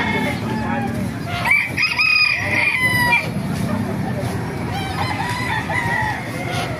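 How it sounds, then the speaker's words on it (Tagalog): Several chickens crow and cluck nearby at an animal market in Baliuag, Bulacan, a rooster's call rising over a busy flock with steady background farmyard noise. "Ayan, mga kakaibang manok."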